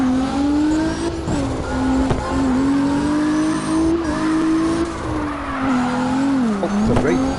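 A car drifting in the CarX racing video game, a loud continuous engine drone with a sustained tire squeal that wavers in pitch as the slide continues, close and steady throughout.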